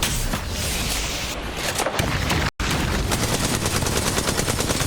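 Dense, loud rapid gunfire from the Apex Legends video game at a competitive esports match, with sustained automatic bursts and a brief cut partway through.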